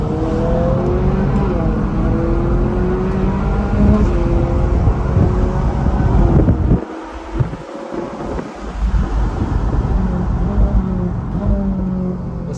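A Ferrari 458 engine revs while being driven up a winding road, a loud continuous roar rising and falling through the gears, with a brief drop midway and people talking over it.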